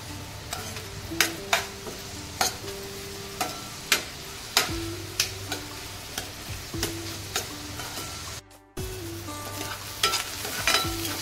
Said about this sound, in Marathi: आपल्याला कांदा चांगला आता शिजवून घ्यायचा आहे